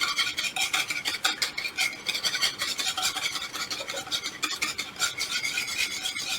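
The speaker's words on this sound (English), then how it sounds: "So we're going to just start adding it and mixing it as we go, and really that's what your whisk does." A whisk stirs a gnocchi alla Romana mixture in a pot to work out lumps, giving a steady, continuous scraping and swishing rhythm up close with no talking.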